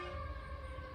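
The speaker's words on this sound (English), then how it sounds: "I apologize for the sirens in the background." A distant siren drifts from a nearby fire station, heard faintly as a steady sustained tone over low background rumble.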